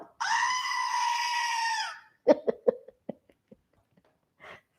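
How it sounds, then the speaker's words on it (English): A screaming goat novelty toy lets out one loud, sustained goat-like scream lasting nearly two seconds, followed by a few short clicks and taps and a faint final squeak. "I don't have my birthday cup, but I do have the screaming goat."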